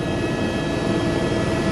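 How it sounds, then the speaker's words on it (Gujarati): A tourist helicopter taking off for a Statue of Unity ride over the Valley of Flowers in Gujarat makes a steady, loud, close engine and rotor roar, with no voices. "આપણું હેલિકોપ્ટરે ઉડાન ભર્યું છે અને અત્યારે વેલી ઓફ ફ્લાવર પરથી આ હેલિકોપ્ટર પસાર થઈ રહ્યું છે"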